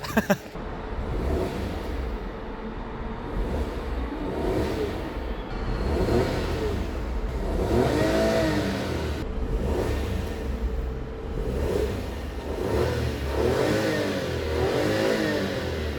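A Toyota Aygo X 1.0 CVT engine revs repeatedly, rising and falling in several swells over a rumbling, shaky idle that struggles to stay running, heard up close.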